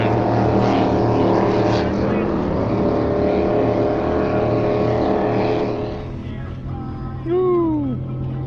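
A misfiring racing boat engine at the Key West boat races roars loudly and continuously. The sound dips near the end before a brief rising and falling whine of passing engines.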